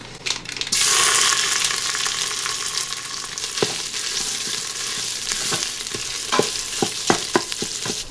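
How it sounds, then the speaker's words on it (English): Thai curry paste stir-frying in neutral oil, a loud steady sizzle with scraping stirs and sharp clicks of the spoon against the pot, the hiss easing slightly after the first second. "I'm just going to stir fry this paste for a couple of minutes."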